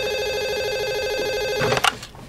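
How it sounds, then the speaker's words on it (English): Electronic telephone ringtone trilling steadily in a prison library, a repeating warbling ring that ends in a brief rattle as the handset is picked up. "You expecting a phone call, Ray?"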